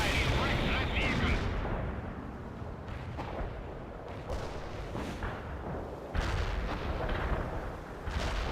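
Heavy artillery fire in the war video game World in Conflict, a continuous loud barrage of booms and rumbling blasts that swells and falls, with radio-style voices talking over it.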